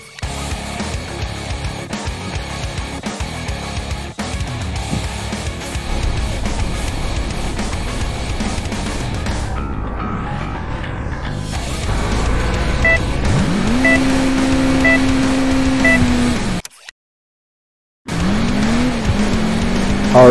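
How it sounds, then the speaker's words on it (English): In the video game Crash Time, a car engine starts and the car drives off. A loud, close engine roar climbs in pitch, with tire squeal and skidding, then drops to a brief silence before resuming. "He's starting the engine."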